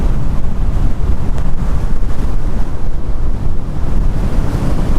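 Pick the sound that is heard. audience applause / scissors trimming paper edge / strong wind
strong wind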